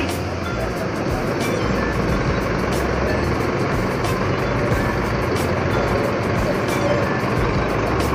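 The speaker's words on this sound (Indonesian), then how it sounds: "Dan di depannya ada 2 bus ya, ini mengantri untuk maju ke depan" Buses queue and idle at Tamanan bus terminal in Kediri, a steady loud engine rumble with faint ticking and beeping over continuous traffic noise, heard close and without pause.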